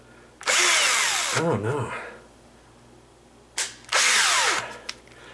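A power drill drives a screw into the jamb of a sagging wooden double door, two loud whining bursts with a pause between and a short spin-down; someone speaks briefly.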